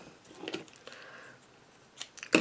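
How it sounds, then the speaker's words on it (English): Fabric scissors snipping through a sheet of vellum while trimming it slightly larger than a card, a few soft close cuts followed by a sharper, louder snip at the end. "Use my good fabric scissors."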